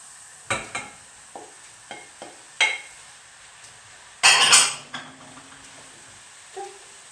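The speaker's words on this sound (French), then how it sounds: "Une fois que vous avez fait suer vos oignons pendant 5 minutes, bien mélangés, vous ajoutez vos champignons." Sliced mushrooms tipped into a pan of onions that have sweated for five minutes: a few scattered knocks and clinks, then a loud burst of sizzle and clatter as they land, fading to a faint fry and one more tap.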